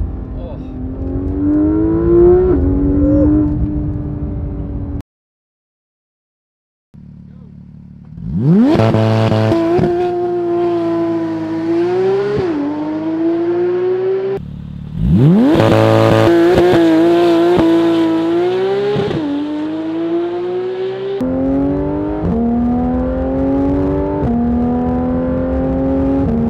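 A Porsche GT3 RS supercar engine revs hard, climbing through gears with rising howls, sharp blips on downshifts and one brief silent gap, loud and close; a voice can be heard at times.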